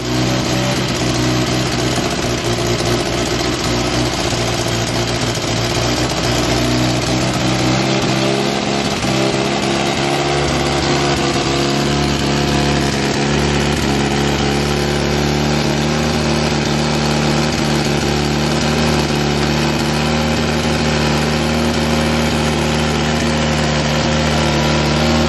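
A freshly restored Austin-Healey Bugeye Sprite engine runs steadily nearby, a loud continuous idle with a slight shift in tone midway and no talk over it.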